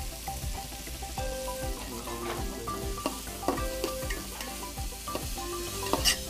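Onions sautéing in oil with a pinch of salt, with a soft continuous sizzle under repeated scraping and stirring strokes of a utensil against the pan, fairly close and moderately quiet, with no talking.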